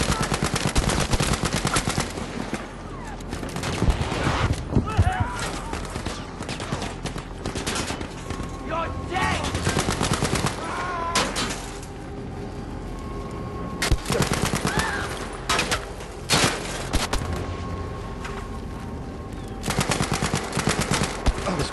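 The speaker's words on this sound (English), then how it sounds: "This gun is so inaccurate." Sustained automatic gunfire and rapid bursts of shots from the video game Battlefield V, loud and dense throughout with overlapping blasts and battle noise.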